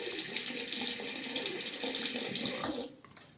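A tap runs steadily as a Merkur Progress razor is rinsed under it, water splashing close by for nearly three seconds before the flow stops abruptly.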